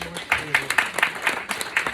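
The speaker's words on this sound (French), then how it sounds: "Vous pouvez vous applaudir à toutes." A gathering of women claps at an evening event, a modest group applause with distinct, fairly rhythmic claps close by, over a faint background murmur of talk.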